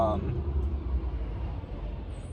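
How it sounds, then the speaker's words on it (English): A garbage truck passes behind a person on a street, giving a steady low engine rumble with road noise that holds for the whole stretch, close and fairly loud, while the person's voice sounds briefly at the start. "there's a garbage truck behind me"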